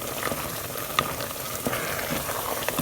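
Mushroom risotto rice stirred in a pan, a soft continuous sizzle and bubbling with light scraping ticks of the spoon, close and steady with no talking.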